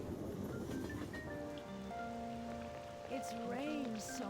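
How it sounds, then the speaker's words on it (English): Steady rain patters in the video game Persona 5 Royal, a soft continuous hiss layered under gentle sustained music tones and occasional chimes. "It's rained so much."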